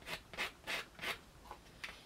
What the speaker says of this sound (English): I'll just sand them down